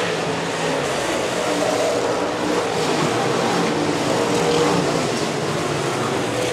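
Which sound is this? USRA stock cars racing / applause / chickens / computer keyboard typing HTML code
USRA stock cars racing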